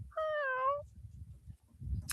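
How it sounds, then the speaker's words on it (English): A cat gives a single clear, drawn-out meow up close, followed by faint low background noise in a quiet room. "Kitty says hello."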